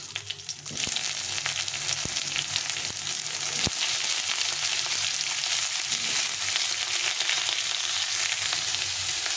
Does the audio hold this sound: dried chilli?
yes